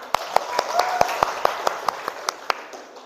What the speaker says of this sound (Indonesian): Baik, benar, nomor 1, tepuk tangan